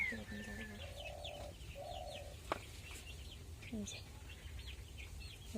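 Large and small chickens clucking and cackling nearby in a Sundarbans village, with scattered chirps from small birds and a brief knock in the background.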